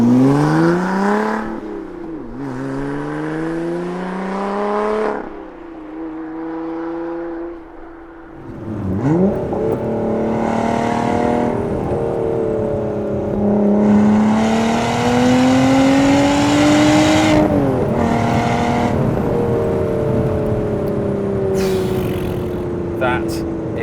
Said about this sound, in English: So how does this Lotus Evora S drive?